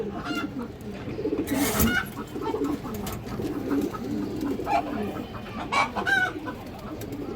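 A large Beji pigeon hen coos softly among a flock of pigeons and chickens, with repeated low murmuring calls and occasional clucks over a busy, steady bird background.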